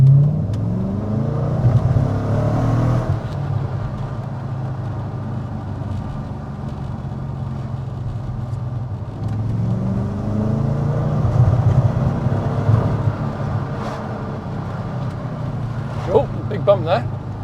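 An Audi RS4 in second gear, with engine drone and road rumble rising and falling as it accelerates, heard from inside the car while people talk over it.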